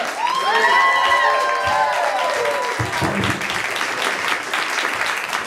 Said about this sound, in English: If we can get some clapping going.